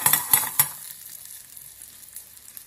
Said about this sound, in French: Je vais jeter mes petits fruits que je vais légèrement cuire.